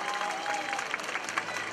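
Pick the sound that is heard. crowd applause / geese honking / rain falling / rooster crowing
crowd applause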